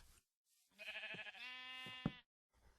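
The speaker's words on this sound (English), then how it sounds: "kill a sheep" A sheep bleats in the Minecraft video game, one drawn-out wavering bleat that stands clear against near silence.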